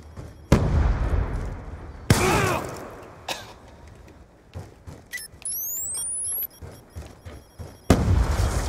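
Sticky grenade blasts in a shooter video game against bots: several loud, sharp booms with scattered gunfire between them and a final blast near the end, with no talking.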